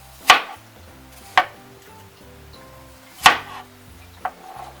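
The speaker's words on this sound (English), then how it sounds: "I like the apples in little chunks, so I further cut the slices in half." A knife chops apple slices into chunks on a cutting board, four sharp separate thwacks spaced about a second apart, close and crisp in a quiet kitchen.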